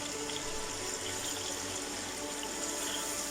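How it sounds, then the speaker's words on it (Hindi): Water pours steadily into a cooking pot of fried carrots for chicken pulao, a continuous close rushing splash like a running tap, with no talking over it. "अब हम इसमें पानी डाल देंगे।"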